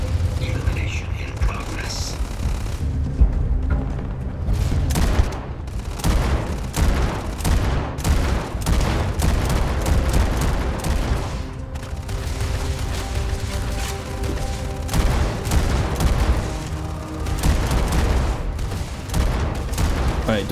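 Rapid weapon fire in the Starfield video game comes as dense, repeated bursts of shots and booms throughout, loud and close, with voices mixed in.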